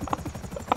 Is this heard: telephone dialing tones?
no